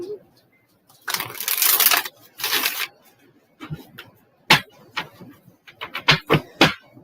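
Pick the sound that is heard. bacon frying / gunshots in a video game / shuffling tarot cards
shuffling tarot cards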